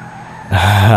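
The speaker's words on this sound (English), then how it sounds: "let's rev this up" The Albany Buccaneer, a muscle car modeled on the Chevrolet Monte Carlo, revs in GTA V: quieter engine idle, then an abrupt loud rise into a roaring, climbing rev, close and alone.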